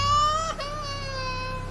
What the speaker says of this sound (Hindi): ये अचानक बच्चे के रोने की आवाज कहां से आने लगी?